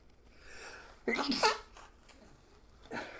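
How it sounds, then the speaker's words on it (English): A single sharp sneeze bursts out midway, preceded by a faint breathy intake, with a short exhale or sniff near the end. "That was a weird sneeze, wasn't it?"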